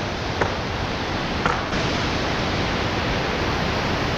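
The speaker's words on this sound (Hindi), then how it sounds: "वाटरफॉल।" Steady broadband rush of a waterfall on the Kheerganga trek in the Himalayas, loud and continuous with no voices, with two brief soft bumps early on.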